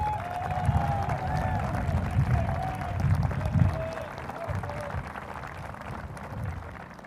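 A commencement crowd applauds a salutatorian at a Class of 2021 ceremony, steady dense clapping with cheers rising and falling over several seconds, a faint tonal line running beneath.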